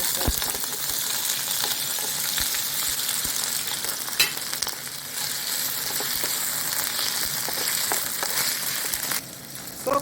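Dried, cubed potatoes frying and being stirred in a hot pan with mushrooms and vegetables, a steady close sizzle punctuated by scattered clicks and scrapes as the pieces move about.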